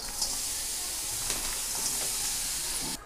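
Jaggery dropped into a hot kadhai while making gud laddu gives a steady, close hiss and sizzle. Faint crackles break through now and then, and the sound cuts off sharply near the end.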